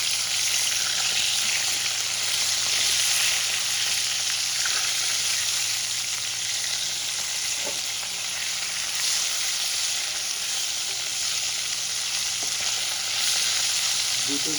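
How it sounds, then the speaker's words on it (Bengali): Fish pieces fry in a wok (kadai), giving a steady, dense, loud sizzle that runs unbroken throughout, with a couple of faint clicks and no talking. "দুটো দিকে আমি লাল লাল করে ভাজবো।"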